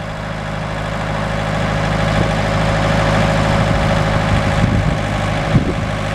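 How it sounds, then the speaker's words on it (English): A 2002 John Deere 110 four-wheel-drive hydrostatic tractor loader backhoe with its engine idling, a steady loud low diesel rumble with even vibration, close by and without talk. "this is a John Deere 110 four-wheel drive tractor loader backhoe, showing you that the four-wheel drive does work."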